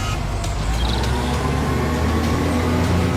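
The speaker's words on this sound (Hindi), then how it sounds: "गुरजीत ने अपना ट्रक निकाल लिया" A truck engine runs steadily, a low continuous rumble of road traffic with no talking over it.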